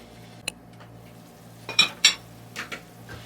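Metal spoon scraping and clinking against a pan while paneer masala is stirred, a few distinct knocks and scrapes in a quiet kitchen, spaced irregularly.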